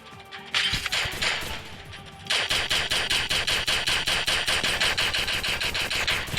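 Rapid bursts of video game gunfire, the weapon firing at a doubled rate of fire: a sharp, evenly spaced rattle of shots, loud and close, running nearly nonstop after a brief opening volley, with no talking.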